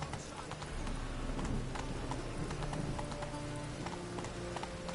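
Horse galloping in a video game, hooves clip-clopping in a quick steady rhythm, moderately close and fairly quiet, with game sounds mixed in.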